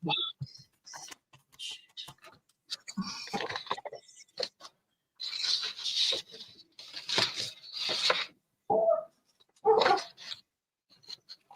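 An office chair in need of oil squeaks and creaks in sharp, yelping bursts like a dog, coming and going over several seconds with people talking between the squeals.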